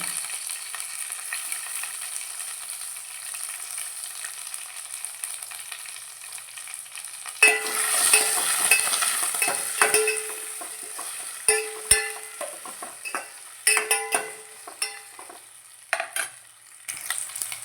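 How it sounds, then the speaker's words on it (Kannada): Green chili and tomato fry and are stirred in a home-cooked chicken sukka pan, with faint quiet cooking at first, then a louder sizzle and repeated scraping, clinking stirs, no talk. "ಇದು ಫ್ರೈ ಆಗಿದೆ ಇದು ಕಾಯಿ ಮೆಣಸು ಬಾಡಿದ ಟೊಮೆಟೊ ಬಾಡಿದ"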